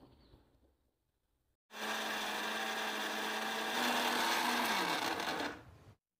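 An electric mixer grinding tamarind juice with other ingredients into a smooth paste, a loud steady whirring drone that starts abruptly after a short quiet gap, holds for about four seconds with a slight pitch shift, then stops.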